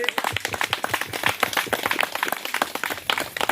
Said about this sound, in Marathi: आपण जोरदार टाळ्या वाजवून स्वागत करायचं आहे.